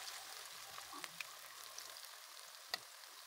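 Squash fritters (kalabasang okoy) frying in oil give a steady, soft, close sizzle with a few faint pops and no talk.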